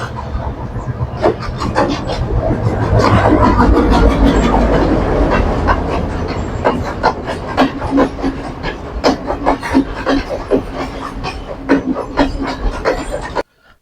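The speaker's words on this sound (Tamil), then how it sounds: "இப்போ ட்ரெயின் வந்து கொண்டிருக்குது பாருங்கள்" A train rumbles past at close range in Sri Lanka, with steady rolling noise giving way to rhythmic clickety-clack of wheels over rail joints.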